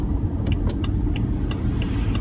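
A BMW 530d xDrive Touring diesel engine pulling at low revs while driving, a steady loud low rumble with constant road noise inside the car and a few faint high clicks over it.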